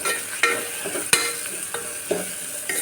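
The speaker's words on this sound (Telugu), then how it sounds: "ఇవి మిక్స్ అయిన తర్వాత ఒకసారి కలిపేసుకుందాము" Mutton curry masala with salt stirred in a pan for drumstick mutton curry, giving soft scraping strokes and a few sharper utensil knocks over a faint sizzle, close and moderately loud, no talking.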